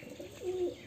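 A pet pigeon, kept as a hobby bird in Murshidabad, gives a single soft, low coo lasting under half a second, fairly close and quiet against a faint room background.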